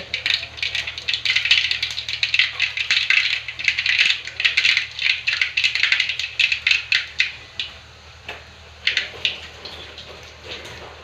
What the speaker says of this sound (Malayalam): കടുകിൻ്റെ കണ്ടമാന ശബ്ദം കേൾക്കുന്നുണ്ട്